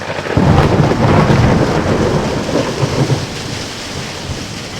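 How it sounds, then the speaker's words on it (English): A heavy thunderstorm rumbles with loud rolling thunder over a dense, steady hiss of rain, close and enveloping, with no voices present. "'Twas a night of storms."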